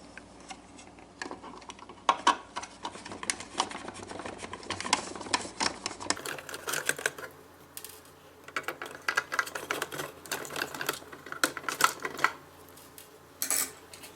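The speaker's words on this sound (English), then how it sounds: "So I will go ahead and remove those screws." Screws are backed out from under the K-cup arm of a Keurig Classic K50 coffee maker during disassembly, a busy run of close plastic and metal ticking, clicking and rattling that keeps going steadily for the whole stretch.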